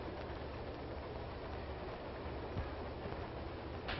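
A 1930s passenger train rolls along the rails with a steady low rumble and faint rhythmic rattling, quiet and continuous.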